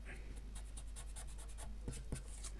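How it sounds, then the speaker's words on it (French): An eraser rubs out small pencil marks on a 30.5 cm paper base for a mini album, making quick, rhythmic back-and-forth scrubbing strokes close by, steady and fairly quiet, with no one talking. "Je vais venir gommer les petits marquages."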